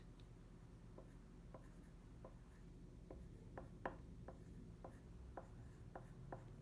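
Blue pencil writes very lightly on paper in a run of soft, scratchy strokes, a dozen or so short taps and scrapes spread across the stretch over a low steady hum.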